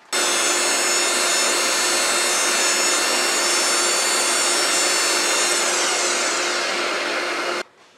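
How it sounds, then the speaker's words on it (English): Sanding a wood-turned goblet on a spinning lathe, a loud, steady abrasive hiss with a constant whirring hum close up, running unbroken for several seconds before cutting off abruptly at the end. "Now I can sand it and start embellishing"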